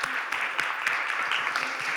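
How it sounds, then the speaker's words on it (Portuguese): Audience applause in a Portuguese education talk on inclusive schooling, a steady two-second wash of clapping with no voices over it. "Palmas também para este grupo."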